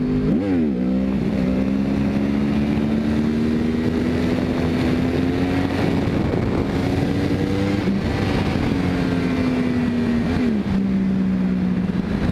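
A sportbike accelerates hard in second gear for a wheelie, its engine loud and close, a steady roaring drone with rising pitch sweeps and gear shifts, heavy wind noise throughout.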